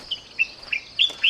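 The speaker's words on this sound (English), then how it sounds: "you walk by a tree full of birds like that" Birds chirp in a tree, giving a string of quick, high tweets at a steady pace. They sound moderately faint over a soft outdoor background.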